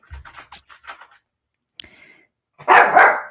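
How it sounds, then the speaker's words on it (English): Dog barking indoors, a loud close bark near the end, with softer muffled yips, scratching and panting sounds before it. "Can you stop barking?"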